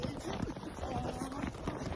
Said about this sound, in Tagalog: Tignan mo yung kabayo ko.